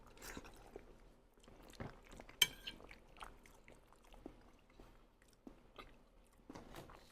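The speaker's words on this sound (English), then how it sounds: "I apologize for any plate noises you hear" Scattered clinks and taps of cutlery against a plate while someone eats a big plate of pasta, with soft chewing between; close and fairly quiet, irregular, with no talking.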